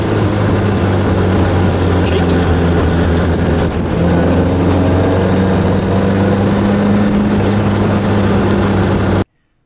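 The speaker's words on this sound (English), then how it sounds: "Back off the throttle and the exhaust pops and fizzes like a proper sports car should." A 1954 MG TF Midget's engine and exhaust drone loudly and steadily from inside the car while driving, a deep, constant growl that holds until it cuts off abruptly at the end.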